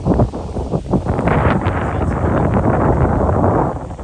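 Strong wind roars steadily into the microphone, a dense continuous buffeting with gusty swells throughout, no voices present.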